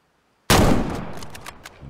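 A single sharp rifle shot fired at a mountain goat in a hunting video game, sudden and loud after silence, with a long rolling echo trailing off.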